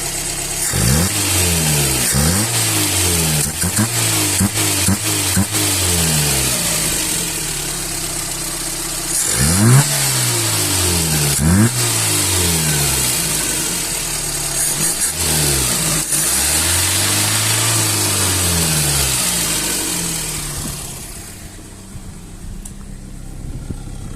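A ZAZ Slavuta with a 1.2 engine and a Solex 21081 carburetor, not yet fully warmed up, idles and is revved repeatedly. Several rising and falling bursts are heard up close before the engine note fades out near the end.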